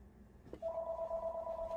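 A telephone rings in a home where a garden gnome is being crafted, a steady electronic tone starting after a brief knock and holding clear and fairly close to the end.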